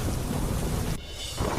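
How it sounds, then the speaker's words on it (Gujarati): Torrential rain in Rajasthan's Didwana district roars as a dense, loud wash, with a deep rumble of thunder that drops away briefly before the downpour swells again. "રાજસ્થાનના ડીડવાના જિલ્લામાં પડ્યો મુશળધાર વરસાદ"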